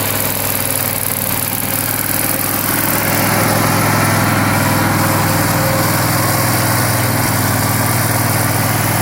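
The engine of a Struck Magnatrac MT2000 tracked loader runs steadily and loudly throughout with a constant droning hum and rattle, close by and unchanging, with no voices.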